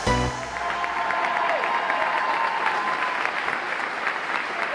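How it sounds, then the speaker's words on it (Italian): A TV show audience on Ciao TV breaks into applause. Dense, sustained clapping fills the clip after a short sung note at the start, and a voice is faintly heard over the clapping. "grazie un applauso per lui"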